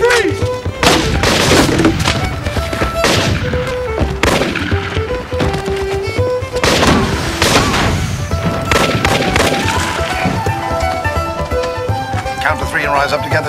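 A police shootout in a TV drama, with repeated loud gunshots and booming impacts over a dense musical score, and some shouting mixed in.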